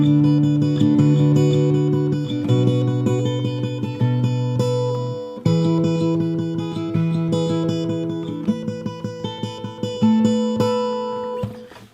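Fingerstyle acoustic guitar playing the bridge of a song, with fast plucked notes ringing over changing chords, close and clear, played alone with no voices.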